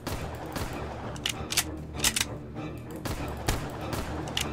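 Gunfire in the Roblox game SharkBite 2, aimed at a shark during a New Year event: several sharp, loud shots in irregular bursts over steady background game noise, with no talk.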